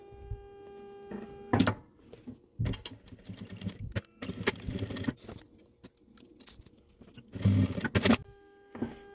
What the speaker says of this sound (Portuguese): Vou costurar pé de máquina, tá?